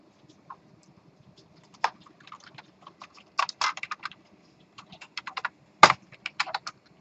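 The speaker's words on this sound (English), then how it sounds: "since some people are still typing" Students typing on computer keyboards in a lecture hall, with scattered bursts of key clicks and a few sharper taps, fairly faint against a quiet room hum.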